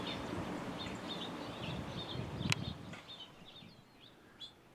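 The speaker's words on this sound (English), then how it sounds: "A dark-eyed Junko is one of the common birds in North America and can often be seen on the ground foraging for" A dark-eyed junco gives short, high chirping calls repeated at a distance over a steady low outdoor rumble that fades toward the end.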